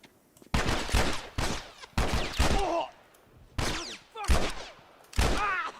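Bursts of gunfire in The Last of Us, played on a PS3 emulator, several rapid volleys separated by short pauses, loud and close, with game sounds trailing between shots.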